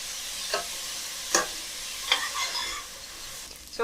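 Onions frying in a pan with black pepper are stirred, giving a steady close sizzle broken by about four sharp scraping stirs.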